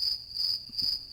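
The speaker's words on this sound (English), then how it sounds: "Crickets. They got quiet real quick." Crickets chirp in a steady high-pitched trill, pulsing in a regular rhythm, close and clear, with no other sounds.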